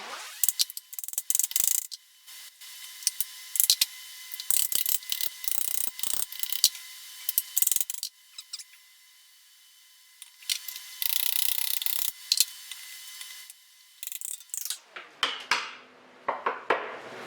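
Socket wrench ratcheting while changing a 280-grit polishing wheel on a Diamond Pacific Titan Gem Maker, bursts of close, crisp metallic clicking in repeated strokes with brief quiet gaps.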